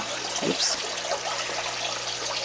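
Water trickling and dribbling out through the drain of a small home aquaponics system with stacked planters, a steady close splashing flow with no talk.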